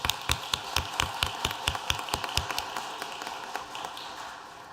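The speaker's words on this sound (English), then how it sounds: "Can we give him a quick round of applause?" At a school board meeting, a small audience gives Cadet Santos a short round of applause: a few distinct hand claps in a quick, fairly even rhythm, soft and slightly distant, tapering off toward the end.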